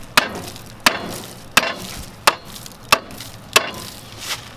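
An old USA-made Plumb hammer strikes a universal drum puller: six sharp, close metallic blows land at a steady, even pace, each ringing briefly before the next.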